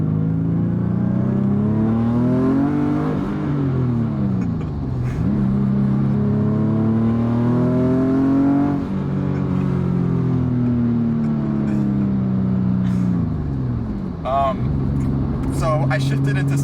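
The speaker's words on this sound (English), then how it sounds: "I'll do half throttle out of second gear" Turbocharged Infiniti G37 coupe making about 500 hp, pulling at half throttle through second gear: a loud, sustained engine note climbing in pitch, dipping at shifts, then rising again close by, with light speech underneath.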